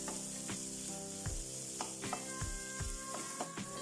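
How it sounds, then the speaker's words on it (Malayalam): Cooked chicken pieces frying in a pan for a chicken pizza, a steady loud sizzle with repeated scraping stirs and clatter of the utensil, no voices. "അതും കൂടെ ഇതിലിട്ടിട്ടൊന്ന് ഇതുപോലെ വറുത്തെടുക്കാം."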